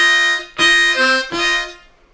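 A Bb harmonica plays a short turnaround lick from a song, three bright reedy blown notes in quick succession, close and solo.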